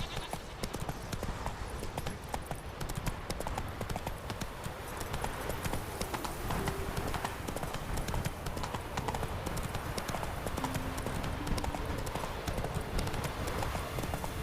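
A horse gallops in The Witcher 3 video game, its hooves clopping in a fast, steady rhythm close by for the whole stretch, fairly quiet in the mix.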